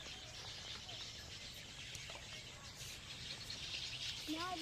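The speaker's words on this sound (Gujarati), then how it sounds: "આમાં બધા ચકલાઓ બોલે છે." Sparrows chirp in bushes beside a farm field: faint, scattered tweets and short calls over a steady outdoor hiss, with a clearer chirp near the end.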